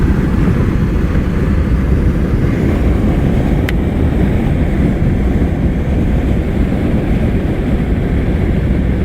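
Strong wind from a Kansas supercell storm chase roars across the microphone in a loud, constant rumbling buffet, with one brief sharp click partway through.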